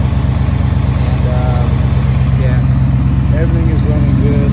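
A 2018+ Ford Mustang engine idles steadily after a ported intake manifold swap, a constant low loud hum with a person talking over it.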